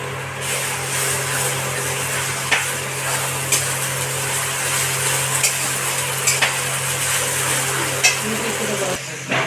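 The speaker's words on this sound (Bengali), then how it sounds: "পেঁয়াজটা ভাজা করে নেবো।" Onion frying in a pan while being stirred, a constant close sizzle with occasional scraping clicks of the spatula, alongside a low steady hum and no talking.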